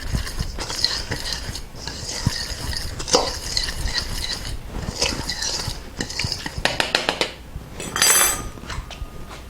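Paprika, salt and pepper being stirred together in a bowl for a green bean and bacon casserole, giving steady scraping and light clinking of a utensil against the bowl, with a brighter burst of clatter near the end.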